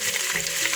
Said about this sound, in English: I'm gonna start by putting in my onion